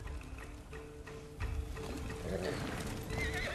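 A horse neighs and whinnies in the Ghost of Tsushima video game, heard over game sounds with hoof clip-clops and a steady low rumble across the short stretch.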